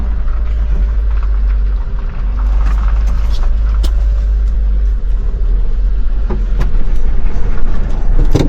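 A car maneuvers slowly into a parking spot at an indoor pool in Japan, its engine a steady, close, low rumble with no talking.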